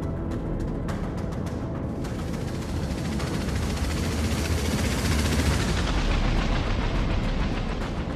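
Rocket fire and explosions in the Warplanes: Air Corp combat game, a dense, continuous roar of gunfire-like bursts and booms that stays loud throughout.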